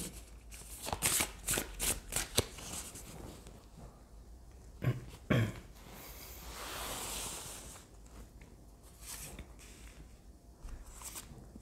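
Power of Love oracle cards being shuffled by hand in quick riffling bursts at first, then softer sliding and rustling, close and fairly quiet with no talking.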